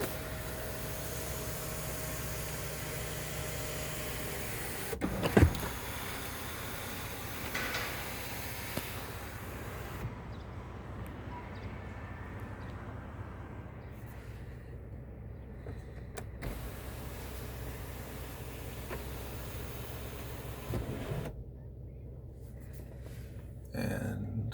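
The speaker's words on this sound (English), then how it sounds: "And this one can close the shade back up" The power moonroof shade motor of a 2018 Lincoln Navigator whirrs steadily inside the cabin during repeated runs that start and stop over several seconds, quiet under the background hum of the vehicle.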